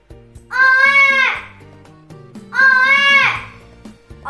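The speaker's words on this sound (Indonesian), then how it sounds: "Tiba-tiba, ia mendengar suara tangisan bayi." A baby crying effect in a storytelling competition performance, two long wailing bursts with a pause between, loud and close, over soft background music.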